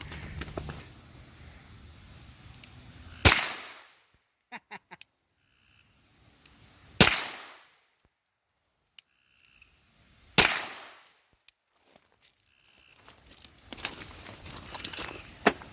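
Three sharp, loud 9mm pistol shots fired with MHP ammunition, spaced a few seconds apart and each trailing off in a short echo, with faint small clicks between them and no talk.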